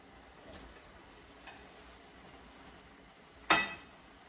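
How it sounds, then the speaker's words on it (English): Potato chunks dropped into a pot of simmering beef and tomato soup, a single sharp splash and clatter after a quiet stretch of faint bubbling and stirring, with no talking. "I'm going to drop in the potato now"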